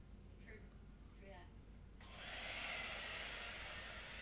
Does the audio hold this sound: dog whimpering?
no